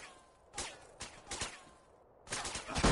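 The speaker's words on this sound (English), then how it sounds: "Lewis, that was a sniper bullet!" Several sniper rifle shots in GTA San Andreas crack out as separate bursts, followed by a denser, louder volley that builds toward the end.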